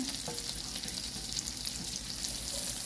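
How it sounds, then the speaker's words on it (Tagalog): Garlic sizzling in hot oil with onion in a pan, a steady crackling fry with faint stirring, close and continuous with no talking, while cooking ginataang langka. "gisa ko lang saglit yung bawang"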